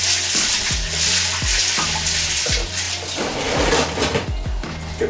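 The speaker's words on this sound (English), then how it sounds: "use my hands to stir them around" Hands swish red kidney beans around in a pot of water, producing continuous close splashing and sloshing with repeated rhythmic surges.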